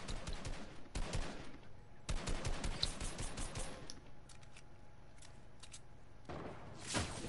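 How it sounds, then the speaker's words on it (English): Sharp gunshots ring out in a shooter game, a sniper rifle among them: a few fast bursts of cracks up front, then sparse, fainter single reports spaced out toward the end. "Ah, damn, I just got sniped."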